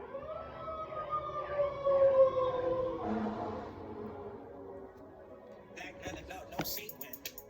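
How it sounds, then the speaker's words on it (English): An emergency vehicle siren wails faintly outside with a rising and falling tone, heard through the room behind slow background music. "oh, there's sirens outside."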